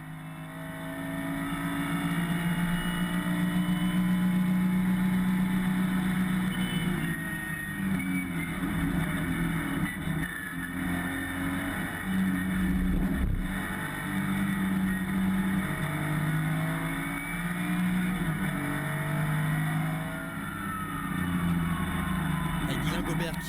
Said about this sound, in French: une douce mélodie, une symphonie même du 6 cylindres à plat,